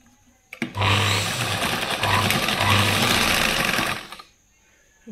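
A sewing machine stitches the sleeve onto a blouse in a quick, even burst of rapid needle clatter lasting a few seconds, close and clear with no talk.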